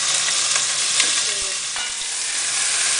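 Meat sears in hot olive oil in a pot, a loud, dense, continuous sizzle heard up close with a few faint clinks underneath.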